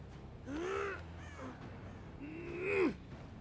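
Two loud, harsh crow caws ring out in a video game, each a drawn-out rasping call with a short gap between, close and clear over quiet background.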